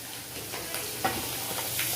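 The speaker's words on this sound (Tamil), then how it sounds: "ஒரு 30-40 செகண்ட்ஸ் மட்டும் இந்த மசாலாஸ் வந்து இதில் ரோஸ்ட் ஆகட்டும்" Masala spices roasting in a pan with tomato puree for a bhindi masala, giving a soft, steady sizzle with faint stirring scrapes, quiet and continuous.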